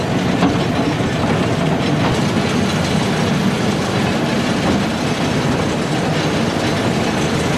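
A toy train ride at the Howrah Rail Museum gives a steady, loud rolling rumble with faint rhythmic clicking of wheels over track, continuous and close with no voices.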